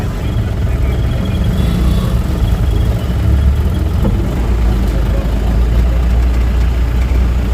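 Farmers' tractors and other vehicles idle at a crowded maize market, making a loud, steady, low engine rumble that continues throughout without a break.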